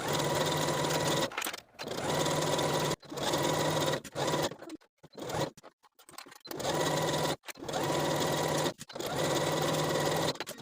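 A sewing machine stitches the inseam of a Mercier jumpsuit at a 3/8 inch seam allowance, running in close, loud bursts of steady whirring broken by short pauses.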